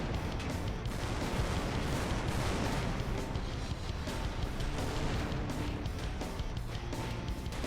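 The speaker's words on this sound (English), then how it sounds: "There's trees exploding everywhere." Explosions and tank gunfire from the Total Tank Simulator video game form a dense, continuous barrage of rumbling blasts and crashes, with no clear breaks between them.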